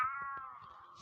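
A cat gives one clear, drawn-out meow, close and fairly quiet, tapering off at the end.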